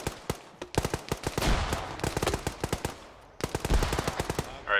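Rapid automatic gunfire in an ArmA 3 infantry battle, bursts of sharp shots in fast succession laying down suppressing fire, loud and close with brief pauses between volleys.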